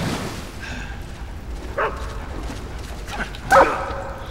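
A dog in Metal Gear Solid 3 barks two short, sharp times, the second louder and closer, over a quiet low background hum.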